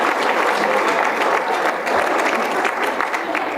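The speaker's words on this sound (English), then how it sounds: "It's worth clapping about, absolutely." Loud, steady applause from a large audience at an alumni medal awards ceremony, sustained clapping filling the whole stretch.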